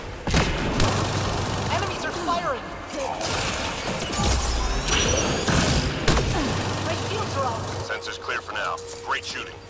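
Apex Legends gunfire and explosions roll through a busy firefight as booming shots and bursts layer over mechanical clatter, steady and loud across the whole stretch, while a voice talks over the action.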